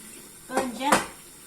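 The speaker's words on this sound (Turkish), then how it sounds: "Bu pirincin de suyunu süzüyüm ıslanmıştı bayağıdan beri. Şöyle suyu da süzülsün." Soaked rice being drained, two short splashing pours of water with light clinks of a pot or strainer, close and brief, over a quiet room.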